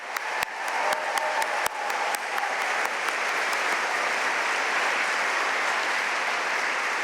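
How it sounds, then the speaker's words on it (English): Sustained audience applause fills the hall at the Duke Executive MBA and MSQM graduation ceremony in 2022. A few sharp claps stand out at the start before it settles into a steady, loud roar of many hands. "Please give them a very loud round of applause."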